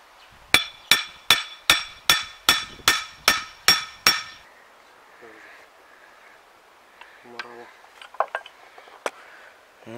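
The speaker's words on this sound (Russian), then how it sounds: "Ты закрой и сверху молоточком может ударить." A hammer strikes a metal part of an MTZ-80 tractor's gear shift mechanism ten times in a steady, even rhythm, sharp ringing clanks, then a few scattered lighter taps and clinks.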